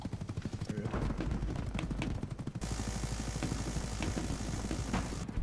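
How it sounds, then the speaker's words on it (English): Helicopter firing a machine gun in the video game Battlebit Remastered: a dense, continuous roar of rotor noise mixed with rapid gunfire that runs throughout, loud and close, with a sudden shift in tone partway through. "Oh, chopper shooting at me."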